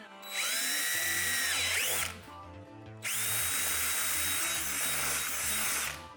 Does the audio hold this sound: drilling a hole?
yes